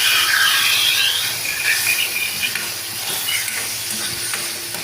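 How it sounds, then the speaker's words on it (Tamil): Ground onion paste sizzles in hot oil for mutton chukka, a loud bright frying hiss at first that settles to a steadier sizzle with light stirring scrapes, and no voices. "இப்போ நாங்கள் எண்ணெய் சூடாகினதும் அந்த பெரிய வெங்காயம் அரைச்சி வச்சுருக்கோம்ல, அதை சேர்த்துறோம்."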